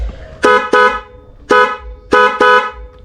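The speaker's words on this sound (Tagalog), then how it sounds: "so napakalakas na busina mga boss" A newly installed dual horn on a motorcycle sounds in five loud, close honks, two quick pairs and a single blast between them, with short silences in between.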